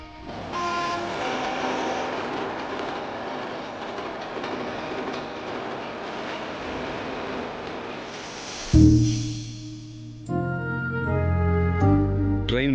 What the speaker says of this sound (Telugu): రైల్వే స్టేషన్లో